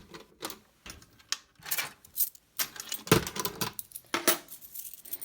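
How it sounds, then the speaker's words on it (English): Keys jangle and clink in irregular bursts as a bunch is pulled out near a home fire alarm panel, close and fairly quiet with short metallic rattles and no speech. "let's go ahead and just get my keys out real quick"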